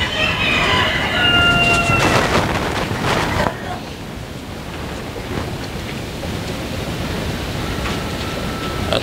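A Shamo rooster of a German fighter bloodline crows outdoors against steady windy noise, the call rising clearly in the first few seconds and then fading, with a voice briefly audible.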